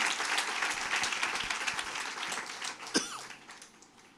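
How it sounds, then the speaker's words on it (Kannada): Congregation applause at a Sunday church service, a dense, steady roar of many hands clapping that fades slightly toward the end, with one sharp louder clap or knock near the close. "ಇವೆಲ್ಲವಕ್ಕೋಸ್ಕರ ದೇವ್ರಿಗೆ ದೊಡ್ಡ ಚಪ್ಪಾಳೆಯಿಂದ"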